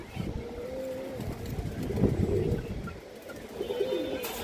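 A pair of Bagha pigeons coo softly in low, rolling calls, faint and fairly close, with no talk.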